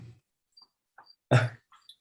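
A single short, sharp cough breaks a mostly quiet room during a fire commission meeting, with faint small sounds before it and a soft breathy noise just after.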